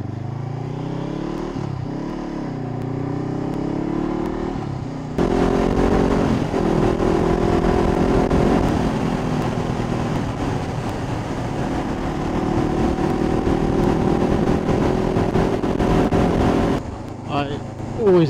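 A motorcycle rides along a country road on a sunny day, its engine droning steadily and loudly up close, rising in pitch as it accelerates after a brief lull; wind rushes throughout and someone speaks briefly over the engine.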